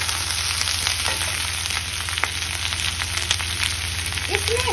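Finely chopped green chillies frying in a pan for chilli paneer, a dense continuous crackle and sizzle over a low electrical hum, steady and fairly loud with no speech.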